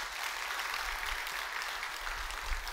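A church congregation at a Korean church service in Gunsan claps together in a steady, dense round of applause that holds at an even level for a few seconds, with no clear voices on top.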